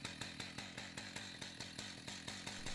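Chainsaw cutting a log down to size for a rustic bench, its engine running continuously with a rapid, regular pulsing rasp as the chain bites through the wood, no talk.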